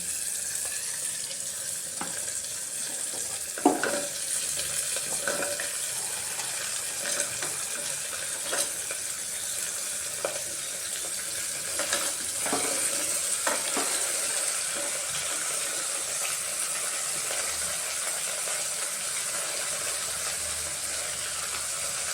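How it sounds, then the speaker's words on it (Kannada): Sliced radish and black gram frying in a pan, a steady soft sizzle with intermittent scrapes and clinks of a spoon stirring throughout. "ಇದೆಲ್ಲ ಸ್ವಲ್ಪ ಫ್ರೈ ಆಗಲಿ"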